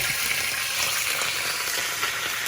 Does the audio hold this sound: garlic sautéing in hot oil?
yes